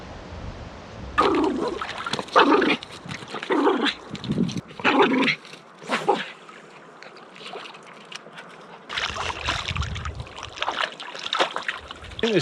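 Cricket, a dog on a boat on the Missouri River, whimpers and growls in short nearby bursts, mixed with knocking and rustling against the hull, alongside steady water and wind noise.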